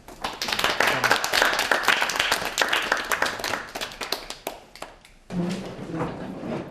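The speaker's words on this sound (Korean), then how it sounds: "응원의 박수 한번 보내줍시다" A group gives a round of encouraging applause, with dense clapping close by that thins briefly, then picks up again near the end.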